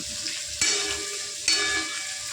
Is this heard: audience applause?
no